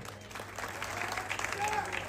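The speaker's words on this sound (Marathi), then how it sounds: "टाळ्या वाजवा सर्वांनी" A crowd applauds at a wrestling ground in Vairag, the clapping a moderate, steady roar heard over a public-address voice talking.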